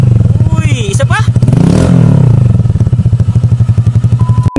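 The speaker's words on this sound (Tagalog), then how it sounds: "meron nga tayo ditong Honda Click 125 version 1 at syempre magka-upgrade siya ng full exhaust" Honda Click 125 version 1 scooter fitted with an upgraded full exhaust system, muffler and elbow, idling with a loud steady pulsing throb close by, rising in a quick rev and falling back, while a voice talks over it.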